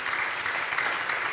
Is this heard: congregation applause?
yes